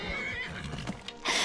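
A horse in the Skyrim video game gives a loud, close whinny that rises and trails off within a second or two, with faint clip-clop under it and no talk.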